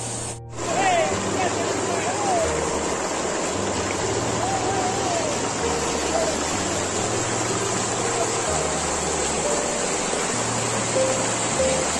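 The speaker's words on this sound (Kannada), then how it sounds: "ನೋಡಿ ನೀರು ಎಷ್ಟು ಚೆನ್ನಾಗಿ ಹರಿತಾ ಇದೆ, ನೋಡೋಕ್ಕೆ ಒಂದು ಚೆಂದ." Water pours steadily down T K Falls near Bangalore, a loud, continuous rushing roar heard close up, with faint bird whistles over it.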